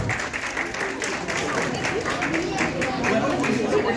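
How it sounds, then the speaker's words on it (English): A crowd claps steadily and continuously at a Teachers' Day celebration honoring professors, dense and fairly loud, with voices chattering underneath throughout. "please have a round of applause for our professors."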